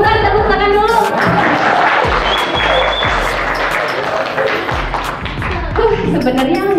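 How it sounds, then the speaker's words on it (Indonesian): A burst of clapping and applause from a small group, with voices talking over it. "tepuk tangan dulu"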